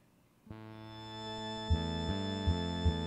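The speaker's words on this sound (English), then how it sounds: "A loud wailing sound comes from downstairs." A ghost in the computer game King's Quest IV wails as a loud, sustained, buzzy synthesized tone that swells and pulses in a steady rhythm.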